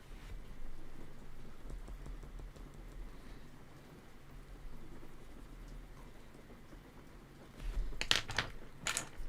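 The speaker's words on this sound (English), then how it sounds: "Rain's getting heavier now" Heavy rain falls in a steady, dense patter, with louder, sharper drops striking a nearby surface toward the end.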